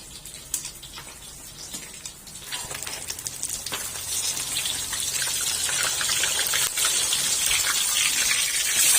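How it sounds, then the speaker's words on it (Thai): Rain falls steadily on a lean-to camping shelter, a dense hissing patter that swells and grows louder over several seconds, close and continuous with no talk. "ฝนตกไม่เป็นไรครับผม"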